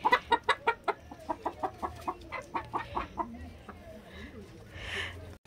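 Hens cluck in a quick rhythmic run of short, close calls, then trail off into quieter murmuring noises near the end.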